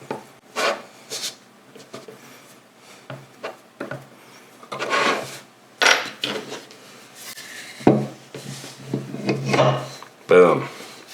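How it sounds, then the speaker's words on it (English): A hinged shoe last for sneaker making is worked open and closed in a run of short wooden rubbing and scraping strokes, close and uneven, with brief knocks between them. "Then you can go ahead and open and close your last, no problem."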